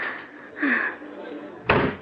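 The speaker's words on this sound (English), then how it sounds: "Here, this door opens onto it." A door swings open onto a terrace with a sharp thud or clunk near the end, following a softer knock or handle sound earlier, while a voice talks underneath.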